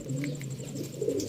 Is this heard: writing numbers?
no